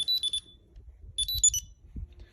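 Two short bursts of high electronic beeping from a GPS tracker tag on an FPV drone, each a rapid cluster of chirps, separated by a pause, fairly quiet over faint low handling noise.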